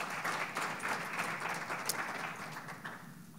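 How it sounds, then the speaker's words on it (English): A conference audience applauds the panelists with a sustained round of clapping, many hands together in a dense, fairly loud patter that tapers slightly toward the end. "One round of applause for them."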